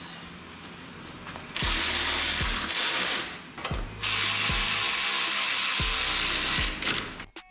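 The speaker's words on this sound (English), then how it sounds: "Now to bolt the bumper back down in place." A ratchet wrench tightens bolts on a rear tube bumper for a 5th gen Toyota 4Runner. Close, loud bursts of rapid clicking come in several runs, separated by short pauses and sharp metallic knocks.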